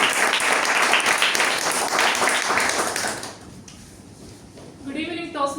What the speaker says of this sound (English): give a round of applause to the Word Master